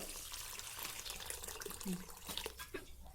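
Water is poured into a soup pot for momo, a fairly quiet continuous splashing stream heard up close with a few brief clinks.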